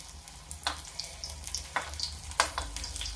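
Gram-flour battered onion rings frying in hot oil for pakoras, a soft continuous sizzle with a few sharp crackles and taps, close, with no talking.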